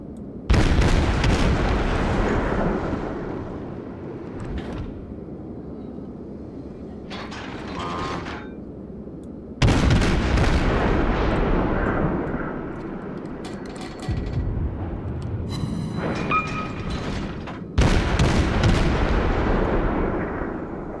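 Heavy naval guns and explosions boom in a World of Warships sea battle, several loud blasts each rolling into a long rumbling decay, with smaller pops and clatters between them.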